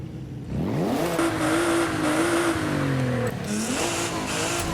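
A 2023 Nissan Z in the Forza racing game, its exhaust revving up from idle into a sustained, wavering high engine note, loud and close with brief dips in pitch, no voices.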